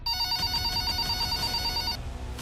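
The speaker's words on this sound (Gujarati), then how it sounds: "તુરંત જ પુત્રી જયશ્રીબેને કંટ્રોલ રૂમમાં ફોન કર્યો" A telephone bell rings in a rapid, steady trill for about two seconds, then stops, leaving a low background hum.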